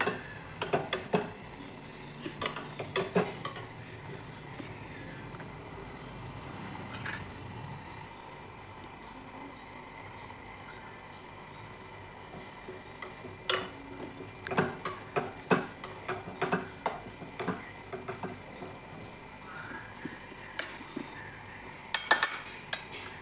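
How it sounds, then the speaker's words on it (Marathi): Cloves, cardamom and black pepper are stirred in a pan, with scattered metallic clinks and light scraping that come in faint clusters against a quiet background and grow busier toward the end. "आणि लवंग, इलायची परत मिक्स करून घेऊ व्यवस्थित"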